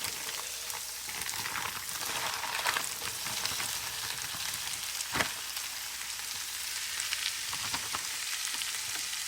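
Shrimp and peppers sizzle steadily in a hot pan, a soft, even crackle of frying with occasional sharper pops, fairly quiet and close, with no talking.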